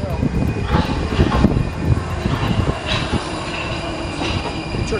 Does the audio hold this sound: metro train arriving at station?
yes